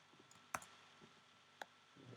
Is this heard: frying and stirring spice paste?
no